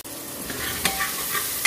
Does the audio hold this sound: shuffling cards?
no